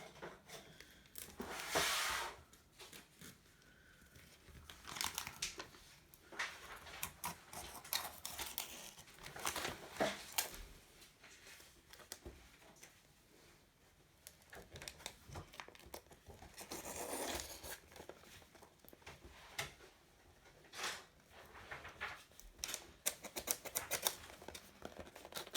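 Paper being cut for a handmade travel notebook, with scattered snips, crinkles and rustles coming in irregular bursts, close and fairly quiet, with no speech.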